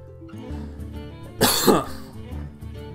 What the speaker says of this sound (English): this card's so bad it makes me cough